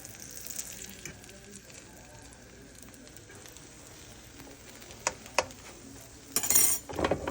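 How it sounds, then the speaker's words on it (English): Fresh butter sizzles on a hot skillet as a quiet, steady crackle, broken by a few sharp clinks and a louder burst of sizzling near the end. "it's fresh butter on a hot skillet"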